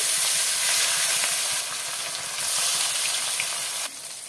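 The remaining fish pieces sizzle in hot mustard oil in a kadai, a continuous close, bright frying hiss with a slight drop in level near the end, no voices.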